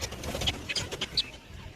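Pigeons nearby give short soft coos and scuffling sounds, with a few brief high chirps mixed in.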